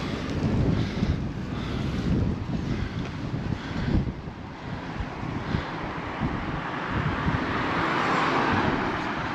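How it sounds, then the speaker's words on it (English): Strong wind in Magaluf, Mallorca, buffets the microphone in a constant, heavy low rumble with gusty surges, with no voices present. "it's getting very windy"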